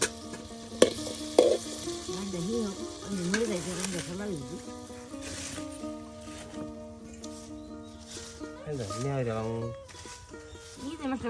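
Chopped potato pieces tossed into a pan with sautéed spices sizzle and fry steadily close by, with stirring scrapes and a voice talking over much of it.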